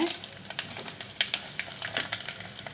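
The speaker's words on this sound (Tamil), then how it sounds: "அதில் கருவேப்பிலை போடுறேன்" Curry leaves and asafoetida hit hot oil for a tomato rasam tempering, giving a dense, crackling sizzle full of quick pops, close and with no talk.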